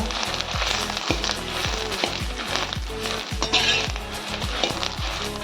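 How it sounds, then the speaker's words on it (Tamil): Dried chillies and curry leaves fry in a little oil over low heat, a loud continuous crackling sizzle broken by a steady rhythm of stirring scrapes against the pan. "அது கூடயே நம்ம கருவேப்பிலையும் மிளகாயும் கொஞ்சம் ஒரு வேலை வறுத்து வறுத்துக்கலாம்ப்பா."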